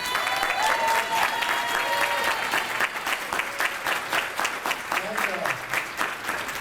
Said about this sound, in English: Please give a really warm applause for Diamond Ambassador, Coach Ronnie Quayle.